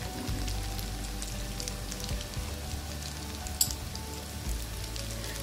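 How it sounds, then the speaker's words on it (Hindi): Chicken shami kababs frying in a pan, a steady close sizzle of hot oil with fine crackling throughout and one brief sharp pop. "अब दूसरी साइड से हम इसको कर लेंगे फ्राई"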